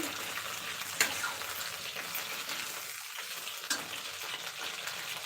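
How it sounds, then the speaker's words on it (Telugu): Brinjals frying in a pan on a low flame with ginger-garlic paste give a steady, even sizzle, with a couple of brief stirring clicks and no talk. "లో ఫ్లేమ్లో పెట్టి ఈ వంకాయల్ని ఫ్రై చేసుకోవాలి"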